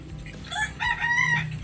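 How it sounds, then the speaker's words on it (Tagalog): Rooster crowing once nearby, a single drawn-out call over low background noise in a Philippine setting. "Ayan, may manok pa."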